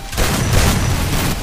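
Loud, dense gunfire from a shooter video game fires in a continuous, rapid burst for about a second and a half with no pause.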